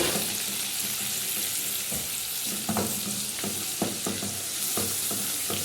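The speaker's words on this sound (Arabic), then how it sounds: "هنزل بالثوم اللي انا هرساه، 5 فصوص ثوم، اديله التشويحه" Garlic, five crushed cloves, sautéing in a wide pan of hot oil left from frying sausages, giving a steady close sizzle with a few clinks of stirring, no talk.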